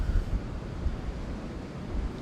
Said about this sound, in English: it's very stormy and windy